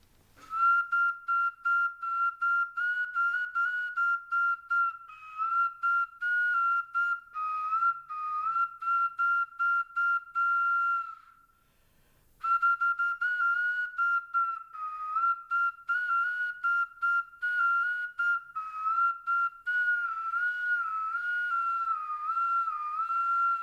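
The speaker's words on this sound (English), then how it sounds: "This is a zoomorphic whistle. It represents a bird." A West Mexican clay bird-shaped zoomorphic whistle plays a high, piping tone in many short warbling bursts, with one brief pause midway.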